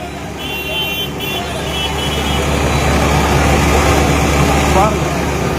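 Parked vehicles idle with engines running on a street in Mayiladuthurai, a steady low rumble filling the scene while people talk over it.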